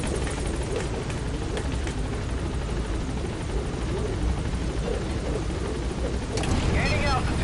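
A helicopter touches down in Metal Gear Solid 5, its rotor roar steady, loud and close throughout, with a rising whoosh of wash near the end.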